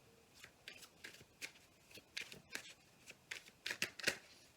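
Tarot cards are shuffled and drawn at close range: quiet, irregular papery riffles and snapping flicks in short bursts, growing a little denser and louder toward the end, with no speech.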